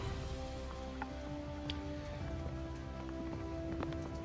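Steady afternoon rain falling at Rashtrapati Bhavan on Raisina Hill, a constant even hiss of drops on surfaces with a faint low hum underneath and occasional sharper individual drips.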